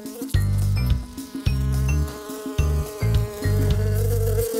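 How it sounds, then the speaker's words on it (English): A bee buzzes loudly and close, its drone swelling and dropping in several bursts as it moves about, with no voices. "it's just a little buzzing bee!"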